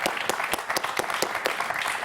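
Audience applause for a contestant on the French quiz show Questions pour un champion, a studio crowd clapping steadily and loudly with a few sharper individual claps standing out through the full two seconds, no voices over it.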